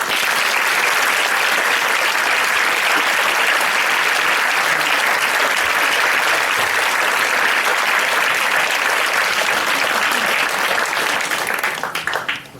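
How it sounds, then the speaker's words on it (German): A large audience at a lecture event in Vienna breaks into loud, dense, sustained applause welcoming the speaker. The clapping holds steady for about twelve seconds, then drops off abruptly. "lasst ihn mir herzlich willkommen mit einem großen Applaus. Dr. Rupert Sheldrake."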